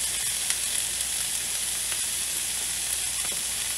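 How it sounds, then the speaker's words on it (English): Cajun-seasoned chicken skin searing in a hot pan, a dense, even, close hiss of sizzling fat that holds steady throughout with a few faint pops. "we're just trying to sear the meat or sear the top of the skin on the chicken"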